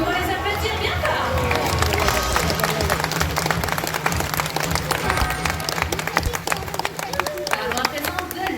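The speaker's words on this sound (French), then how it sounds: "Nous pouvons les applaudir bien fort." An audience claps loudly and continuously at a sea lion show at the ZooParc de Beauval, dense applause from a large crowd with a voice talking over it through a loudspeaker.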